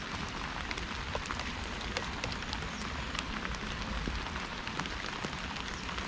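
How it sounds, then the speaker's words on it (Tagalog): Heavy rain patters steadily on a tent at night, a dense hiss with scattered sharper drop impacts, continuous and fairly close with no talking. "Yan, kasi nalakas na yung ulan."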